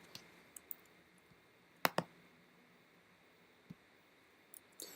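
Computer keyboard typing, a few sparse, faint key clicks scattered across a quiet room, with one sharper double click near the middle and no voices.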